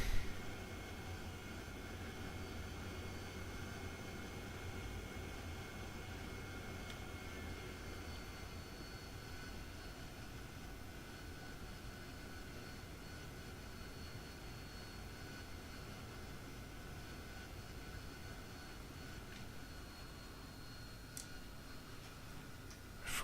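An AV-8B Harrier jet taxiing in the DCS flight simulator, its engine a steady, faint, unbroken whine and hiss with occasional light ticks, holding unchanged for over twenty seconds.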